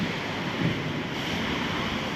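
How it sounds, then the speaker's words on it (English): Broad, steady roar of big ocean waves and wind at Depoe Bay on the Oregon coast, a continuous wash of surf with wind buffeting the microphone and no talking. "Look at how big those waves are out there."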